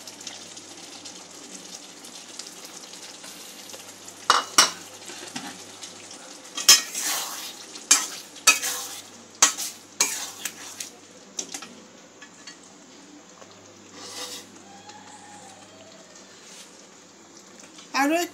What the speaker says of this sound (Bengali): টমেটো পিউরিটা যোগ করে দেব।